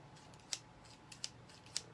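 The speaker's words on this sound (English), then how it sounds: "these are my pinking shears. They have like the little zigzag edge" Pinking shears with a zigzag-edged blade snip fabric for an in-the-hoop bib, giving three sharp, crisp cuts spaced apart against a quiet room.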